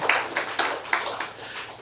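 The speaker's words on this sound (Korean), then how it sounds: "우리 그런 마음으로 함께 축하 박수하겠습니다" A church congregation claps in celebration during a Sunday morning service, a burst of sharp, roughly rhythmic handclaps with several stronger accents, fairly close and loud with no talking.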